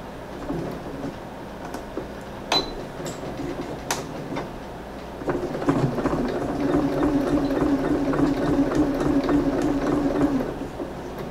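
A sewing machine stitches a fabric pocket for a leopard-print apron, its steady mechanical whir running throughout and growing louder and denser in the second half, with a few sharp clicks early on and no talking.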